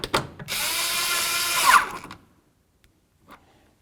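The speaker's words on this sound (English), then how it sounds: "let's go ahead and put in our mounting bolt" Power drill driving a tail light mounting bolt on a 2008-2013 Nissan Rogue: one loud, close whir of about a second and a half that rises in pitch near its end, then stops, followed by a couple of faint knocks.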